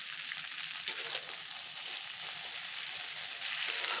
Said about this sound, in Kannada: ಬೆಂಡೆಕಾಯಿ ಸ್ವಲ್ಪ ಫ್ರೈ ಮಾಡ್ಕೊಳ್ಳೋಣ.